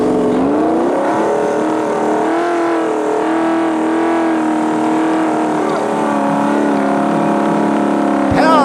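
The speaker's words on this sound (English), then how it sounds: "it's got the big V8 in there, though, so they're giving it what for" Big V8 engine of a 4x4 trials truck revved hard while powering into a bog at a Taupo competition, a loud sustained roar with rising and falling pitch close by, ending in a brief sharp burst.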